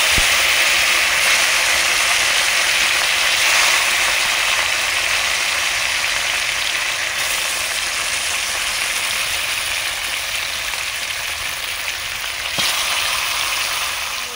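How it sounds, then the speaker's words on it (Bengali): Whole fish frying in hot oil with turmeric, a steady loud sizzle and crackle that runs unbroken from start to end, with one brief sharp pop near the close. "অল্প হলুদ দিয়ে এইভাবে ভাজতে হবে"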